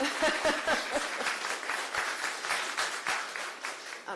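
Audience applause at a county board of commissioners community meeting, a modest spread of hand claps in a room, fairly steady with a few sharper individual claps standing out.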